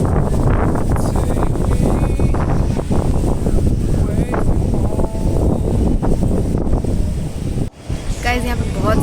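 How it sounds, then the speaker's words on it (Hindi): Strong wind buffets the microphone outdoors at UB City Mall in Bangalore, a loud, continuous roaring rush with gusty swells and a brief dip near the end, with faint talk underneath. "यहाँ पे बहुत ज़्यादा हवा चल रही है"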